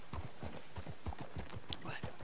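Horse hooves clip-clopping in Red Dead Redemption 2, a quick steady rhythm of close, distinct thuds that carries on throughout, with a faint voice or brief high call near the end.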